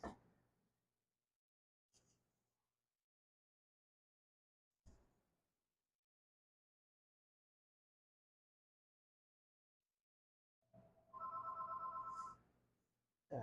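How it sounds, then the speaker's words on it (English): A house landline telephone rings faintly in a home kitchen, with a few isolated clicks and knocks before one short electronic ring burst near the end. "The phone is ringing at the house."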